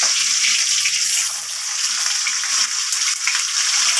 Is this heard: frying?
yes